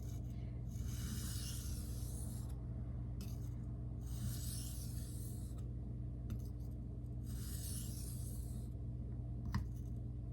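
A knife is sharpened freehand on a 1000 grit Shapton Glass whetstone. Three long, steady rasping strokes of steel across the stone stand out over a constant low hum, with short scrapes in between.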